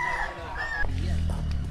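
Rooster crowing in a rural Philippine setting, a short call heard in the first part before a low rumbling background takes over, with people talking nearby.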